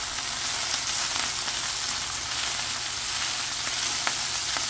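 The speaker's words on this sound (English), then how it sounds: "I'm going to stir this up. Let it sear and cook." Salmon sears in a hot pan with a steady, dense sizzle and faint crackling pops, even and unbroken, heard up close with no talking.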